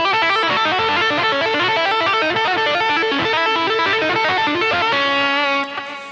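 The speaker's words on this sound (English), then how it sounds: "we're going to look at a lick now which uses a technique of the similar tapping stuff" A distorted electric guitar plays a fast tapping lick, rapid repeating note cascades stepping downward in pitch, loud and continuous before ending on a held note that fades out.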